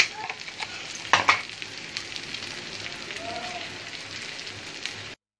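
Masala-stuffed eggplant, Konkani style, cooks in a pan over a low flame, giving a soft continuous sizzle and crackle with a couple of louder scrapes early on before the sound cuts off abruptly.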